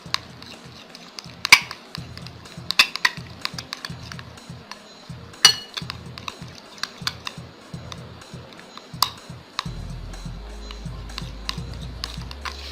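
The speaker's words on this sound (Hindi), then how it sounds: "अब इसको आपने अच्छे से मिक्स कर लेना है।" A spoon clicks and taps against a bowl as a homemade hair mask is stirred with two vitamin E capsules mixed in, giving light, irregular scraping and ticking that sits close and fairly quiet.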